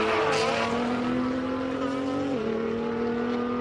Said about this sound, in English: After this, Farouk Dango in the wonderful R35, a Nissan GTR.